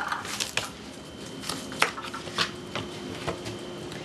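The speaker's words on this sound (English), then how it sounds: "So I'll just cut 1 pound of zucchini into strips." A knife slices zucchini into strips on a cutting board, giving sharp, irregular taps and thuds, with several louder chops spaced across the run, close and clear over a quiet background.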